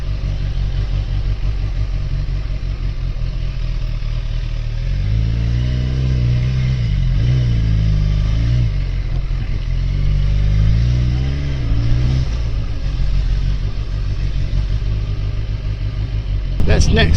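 A Kawasaki ZX10R Ninja liter-class sport bike in London, its engine idling with a low, even rumble, then blipping through a few revs that rise and fall before settling back to idle; close and steady throughout.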